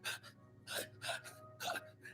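A person imitates the labored breathing of inflamed lungs with four rhythmic, raspy gasping breaths, close and fairly quiet, with no words spoken.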